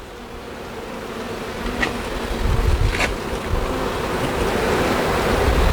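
A swarm of honeybees buzzes steadily around an open hive frame during a hive check, a constant droning hum with a few brief sharper sounds from handling the frame.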